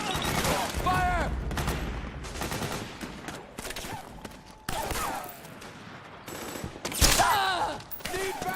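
Dense automatic gunfire crackles in a Metal Gear Solid 4 battle, rapid overlapping bursts that hold loud throughout, broken by sharper shots and short shouts of combat.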